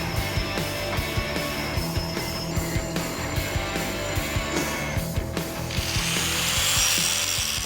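Metal parts are cut during a big-block engine swap into a 1972 Mercury Marquis, a steady rhythmic rasping of saw strokes repeating about twice a second, close and fairly loud, with a brighter grinding hiss near the end.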